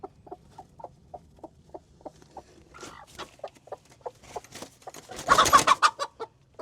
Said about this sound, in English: Then we actually have a broody chicken down here.